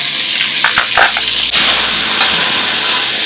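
Sliced onion and two cloves of garlic hitting hot olive oil in a pan, a loud steady sizzle with brief clatter of stirring near the start, close and without talk.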